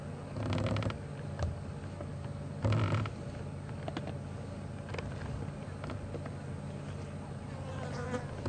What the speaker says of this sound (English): The flies buzzing around the meat.